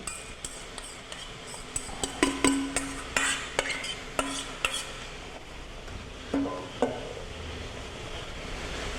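Metal utensil scraping and clinking against a pot as ingredients are stirred and dissolved in ice-cold water, with irregular taps and a low background hum.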